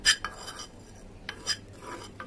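Spices frying in a pan for a rainy-day pickle are stirred with a utensil: a few sharp metallic scrapes and clinks against the pan, spaced apart over a quiet background, with no voices.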